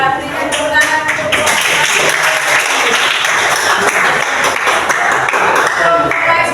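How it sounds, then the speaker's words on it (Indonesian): Classroom applause for a student group that has just presented, with steady, dense clapping from many hands that runs loud and unbroken throughout. "berikan tepuk tangan untuk"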